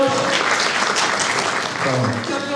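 Dense, steady applause from a crowd at a stage dance performance fills the whole stretch, loud and continuous, with voices mixed in underneath.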